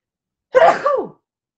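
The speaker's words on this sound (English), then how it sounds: "I'm going to sneeze" A single loud, close sneeze, short and sharp, with nothing else around it.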